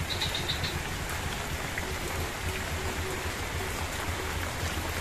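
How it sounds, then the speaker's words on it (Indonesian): Soft, steady patter of light rain falling on surfaces outdoors, a continuous gentle hiss with no voices. "Oh, lagi hujan, rimis-rimis."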